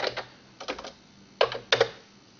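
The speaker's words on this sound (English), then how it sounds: "and I'll type text." Keys tapped on a computer keyboard in short bursts of two to four clicks, separated by brief pauses, close and crisp in a quiet room.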